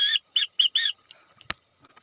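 Four whistle pulses from a handheld whistle, one longer blast and three short blips, tap out the Morse letter B close up, followed by faint handling clicks and a soft thump.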